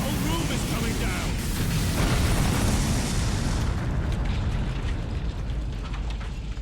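A video game explosion as a room collapses, a loud, dense roar of blast and crumbling debris that fades slightly after a few seconds, with a voice talking over it.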